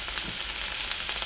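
Plant-based sausage browning in a hot pan, a constant close sizzle with a few soft pops and crackles, no talking over it.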